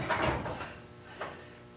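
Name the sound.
rolling tool chest drawer opening or closing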